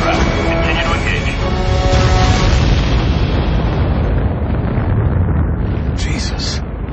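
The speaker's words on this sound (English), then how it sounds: "Another of those explosions" A large in-game explosion in the combat flight game Ace Combat Assault Horizon: a loud, sustained rumbling roar that fills the scene and slowly fades, with radio-style voices briefly cutting in near the end.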